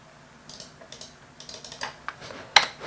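Computer keyboard keys click in short irregular bursts while Python code is erased, quiet separate taps ending in one sharper, louder keystroke.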